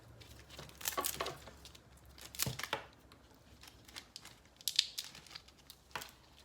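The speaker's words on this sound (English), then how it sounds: "Get this electrical tape off." Electrical tape peeling off the upstream O2 sensor wiring harness on a 1997 Jeep Cherokee, heard as a few short crinkly tearing bursts spread across the moment with quiet gaps, close and fairly faint.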